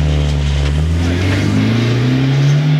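A car drifting at a beach drift event gives a loud, close, sustained engine drone with a steady low tone that rises slightly in pitch toward the end.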